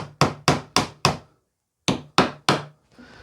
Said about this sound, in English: get your hammer and tap these back through